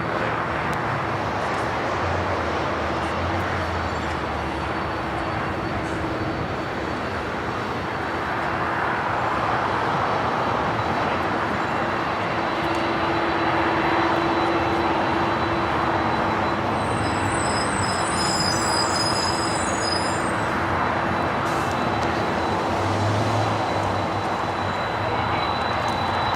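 An American Airlines jet takes off from runway 25 right at Los Angeles International Airport, a broad steady engine roar that swells gradually and holds at a distance, with faint tonal hum and a brief high chirp partway through.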